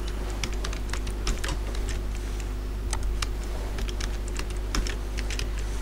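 Keys clatter on a computer keyboard as a password is typed, a quick uneven run of close, crisp clicks over a steady low hum.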